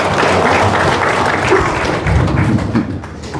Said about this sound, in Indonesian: Berikan aplaus untuk Mas Rizal